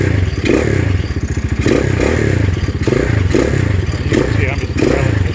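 A Venom X22R 250 motorcycle engine, idling around 1500 RPM, revs repeatedly in close, loud bursts, the throttle blipped in a rough rhythm with rattling mechanical clatter.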